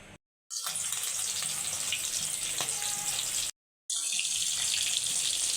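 Hilsa fish fry in hot mustard oil, giving a loud, continuous close-up sizzle that is cut by two brief silences.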